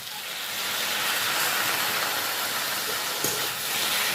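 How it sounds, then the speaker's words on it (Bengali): Water poured into a hot pan of bete shak greens sets off a broad, steady hiss that swells and holds, close and fairly loud, with no talking. "শাকটা সিদ্ধ করার জন্য আমি একটু জল দিয়ে দিলাম কিছুটা"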